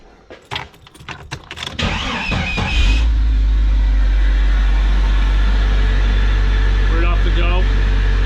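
A few clicks and rattles come first, then a car with a Spectre cowl intake starts close by and settles into a loud, steady idle with a low rumble and intake hiss that holds to the end.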